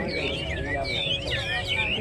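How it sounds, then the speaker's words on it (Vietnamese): A Chinese hwamei songbird sings at a bird market in Bac Ha, Lao Cai, with bright, warbling, sweeping phrases repeated over a constant crowd murmur and nearby voices. "một con chim họa mi hót rất là hay"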